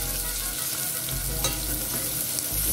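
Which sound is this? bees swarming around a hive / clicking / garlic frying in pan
garlic frying in pan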